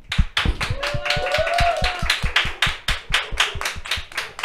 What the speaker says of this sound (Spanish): recibimos este programa con un fuerte aplauso